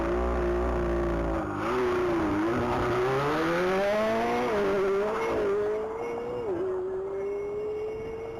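A race car accelerates hard through the mile speed trap at a top-speed mile event, heading toward 200 mph; a loud, close engine roar climbs steadily in pitch through quick gear changes, sustained and unbroken for the whole stretch.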